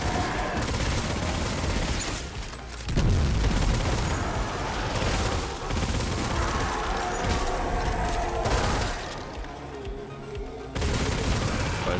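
Rapid gunfire from a video game weapon with an accelerated fire rate blasts almost continuously, loud and dense, with brief lulls between long sustained bursts.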